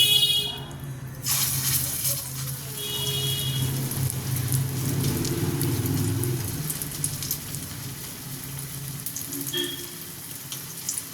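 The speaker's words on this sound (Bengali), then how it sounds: "বাকিগুলো আমি ভেজে নেব।" Potato-eggplant chops frying in hot oil, a steady broad sizzle and bubbling that swells and holds through the middle, with a sharp clatter near the start and faint brief voice sounds later.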